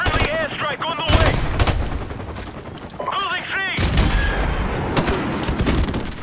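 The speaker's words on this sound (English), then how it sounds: "Friendly airstrike on the way." Airstrike explosions boom and rumble in Modern Warfare Remastered during a Domination match, heavy blasts mixed with rapid gunfire in loud repeated bursts, along with electronic game tones.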